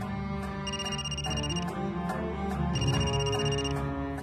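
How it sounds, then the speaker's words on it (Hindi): A mobile phone ringing indoors, a loud melodic electronic ringtone repeating in two bright bursts over a steady tonal backing, with no voices. "फोन कहाँ बज रहा है?"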